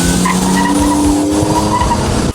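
A 1987 Buick Grand National skids, its tires squealing loudly and continuously under a roaring engine for about two seconds before cutting off abruptly.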